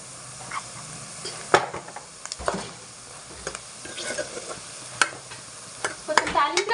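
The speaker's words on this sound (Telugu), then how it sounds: "ఆ అల్లము పచ్చి వాసన పోయేంత వరకు, గోల్డ్ కలర్ వచ్చేంత వరకు చక్కగా ఆయిల్లో ఫ్రై చేసుకోవాలండి." Ginger fries in oil for a tempering, a soft sizzle broken by frequent scrapes and knocks of a spoon stirring in the pan, close and fairly quiet, with faint talk in the background.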